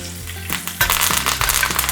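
A chunk of butter and fresh thyme hit a hot pan, and after a quiet start a loud, close, crackling sizzle bursts up and keeps going with small pops and clinks.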